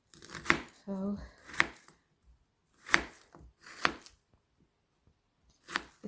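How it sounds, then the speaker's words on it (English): Knife chopping potatoes on a board for soup in a home kitchen: a handful of sharp, irregular chops close up, with brief speech between them. "some chopped potatoes. So I'm just going to finish chopping those"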